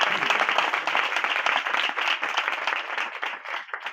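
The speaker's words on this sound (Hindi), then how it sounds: "जोरदार ताली।" Vigorous applause from a church congregation, many hands clapping loudly and continuously, thinning slightly toward the end.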